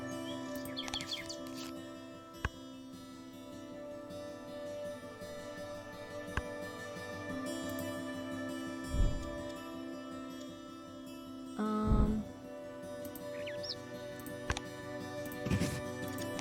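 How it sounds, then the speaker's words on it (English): Gray catbird calling outdoors, short chirps and call notes scattered through a steady hum, with a few louder bursts standing out. "Gray catbird. Catbirds mimic other birds and also have a call that sounds like a cat meowing."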